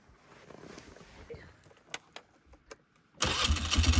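Engine of a vehicle at a remote Yukon wilderness cabin starting in cold, snowy weather after being warmed by a heater: a few faint clicks and brief cranking sounds, then the engine catches and runs loudly and steadily, close by.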